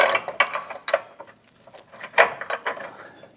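Metallic clicks and ratcheting taps while steering rack bolts are fitted on a 2008-2013 Nissan Rogue during front subframe bushing work, a series of short irregular close mechanical knocks with quiet gaps.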